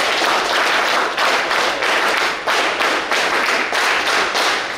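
An audience at a community alcohol de-addiction camp function in Mangaluru, India, gives a round of applause: many hands clapping steadily, with a faint rhythmic pulse in the volume, loud and continuous over several seconds, with no speech.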